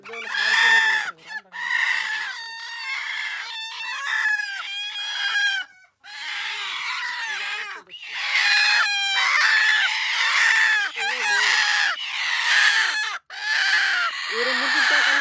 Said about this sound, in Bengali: দেখেন দেশি মুরগি